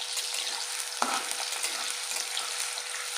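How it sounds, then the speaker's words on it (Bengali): Chopped garlic hits hot oil in a wok with a loud, dense sizzle that runs steadily throughout, broken once by a sharp clink of a utensil. "তেলটাও গরম হয়ে গেছে, এবারে দিয়ে দেবো কোচানো রসুন।"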